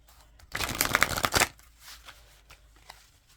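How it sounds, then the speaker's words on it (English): A deck of oracle cards is riffled and shuffled in a quick burst of papery flutter, then a few soft taps and handling sounds follow. "they're advising me to shuffle and cut them in 3"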